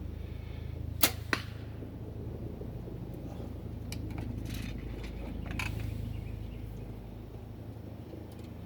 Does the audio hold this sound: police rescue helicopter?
no